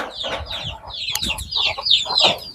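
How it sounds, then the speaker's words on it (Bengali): Native hens kept on an open farm cluck and chatter close by in overlapping bursts, with a few sharper calls among the flock. "মুরগি দেখেন মুরগি আর মুরগি কি সুন্দর"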